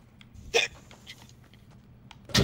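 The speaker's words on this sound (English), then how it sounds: "That was the cutest hiccup I've ever heard." A single soft, quick hiccup stands out against a quiet background, with another short burst of sound at the end, during a Fortnite game stream.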